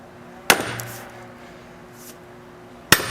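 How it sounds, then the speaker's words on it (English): Two sharp metallic strikes on a ROCKFORGE diamond wedge driven into a piece of wood to split it, one near the start and one near the end, with a quiet pause between and a faint steady hum behind. "you should have no problems whacking this to split this piece of wood"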